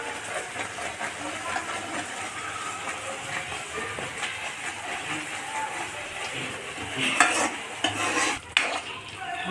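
Dudhi halwa with milk powder being stirred in a pan: a continuous soft scraping and sizzling texture, close but quiet, with a few sharper scrapes near the end and faint talk in the background.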